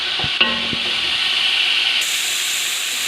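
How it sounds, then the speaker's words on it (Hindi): Julienned carrots stir-fry in a pan for Chinese fried rice, giving a steady close hiss and sizzle throughout, with a few brief clanks of a utensil near the start. "ये गाजर को मैंने 1-2 मिनट कर लिया फ्राई थोड़ा"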